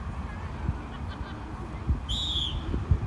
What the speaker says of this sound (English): Has to wait for the whistle.